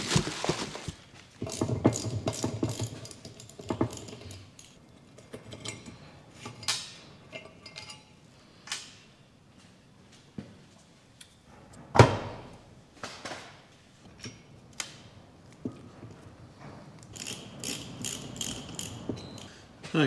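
A winch ratchets in repeated short bursts of clicks and metallic clinks, near and moderately loud, with pauses between strokes as it is operated.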